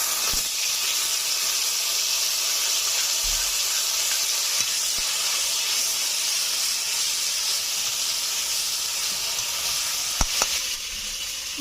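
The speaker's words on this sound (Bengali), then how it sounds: "এখন দিয়ে দিচ্ছি জিরে ধনিয়া বাটা" Cumin-coriander paste hitting hot oil already holding bay leaves and whole cumin, cooked for a Bengali bhola fish curry, giving a loud, steady, close frying hiss with a few faint clicks and no talk.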